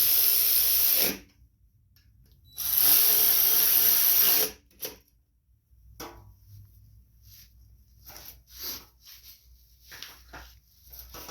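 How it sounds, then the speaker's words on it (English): Carburetor bolts on a Poulan Pro push mower being tightened with a power driver, two loud whirring bursts followed by quieter clicks and rattles of handling, with no talking. "I'm going to go ahead and tighten them down now."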